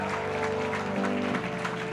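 Church congregation applauding during a sermon, a dense steady wash of clapping mixed with sustained tones and organ-like drones underneath.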